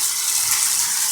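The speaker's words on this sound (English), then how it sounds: "start filling the tub with water" Running water pours steadily into a tub for a waterproof test of a Sentry Safe CHW30100, a continuous close, loud hiss and splash with no voices.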